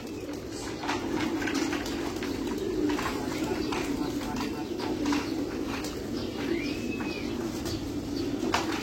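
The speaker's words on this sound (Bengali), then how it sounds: "তো কবুতর সব ঢুকে গেছে এখানে, এখানে আছে, এখানে আছে, কিছু উঠতেছে।" Female pigeons crowd back into a loft after bathing, cooing low and steadily against a busy background hum, while a person talks nearby and a brief chirp rises once.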